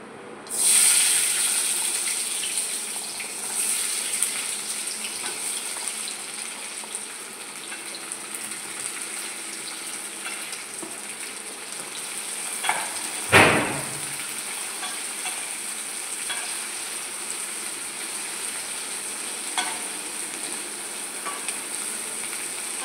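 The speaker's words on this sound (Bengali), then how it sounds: "এই পেঁয়াজটা আমি এখানে দিয়ে দিচ্ছি" Onion is added to a pan of hot oil with dried red chilli and a bay leaf, giving a loud sizzling burst that settles into a long steady fry, with one sharp clatter midway.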